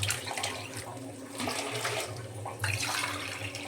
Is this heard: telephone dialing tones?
no